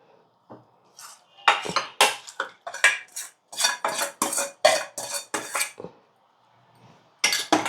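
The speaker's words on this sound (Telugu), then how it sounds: "ఇలా వేసి బాగా కలిపేసుకోవాలి మొత్తం ఇదంతా కలిసేటట్టు కలిపేసుకుందాం" A spoon mixes amla pickle with tamarind tempering in a metal bowl, giving a run of close, bright scraping and clinking strokes in short bursts with brief pauses and no talking.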